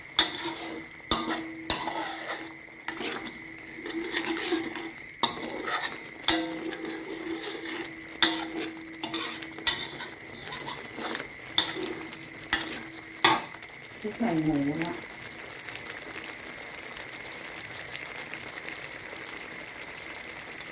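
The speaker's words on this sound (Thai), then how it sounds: "โดยกะทิผัดพริกหน่อย" Coconut milk and chili stir-fried in a pan for a pork and sweet potato coconut curry, steady sizzling broken by repeated scraping and clinking of a utensil against the pan, fairly close, with no talk.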